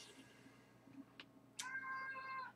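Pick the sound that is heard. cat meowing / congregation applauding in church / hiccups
cat meowing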